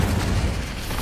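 A fiery Incendio spell blast in Hogwarts Legacy, a loud, rumbling whoosh-boom of flame that fills the moment with sustained low, explosive roar and no distinct pauses.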